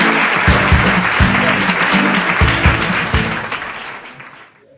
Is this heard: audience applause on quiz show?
yes